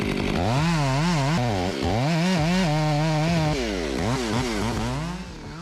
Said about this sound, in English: With an advanced chainsaw designed to handle ancient pine trees, the saw easily moves through dense wood.